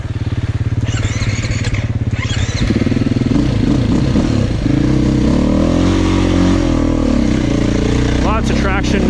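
A 2024 Beta 480 RR four-stroke dual sport motorcycle ridden on muddy ground, its loud engine thumping steadily and revving up through the gears, with a rider speaking over it.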